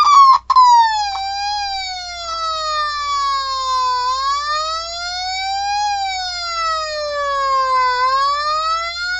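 An American-style electronic siren wails alone, loud and close, with a rising and falling tone that sweeps slowly up and down over about nine seconds after a couple of brief opening chirps.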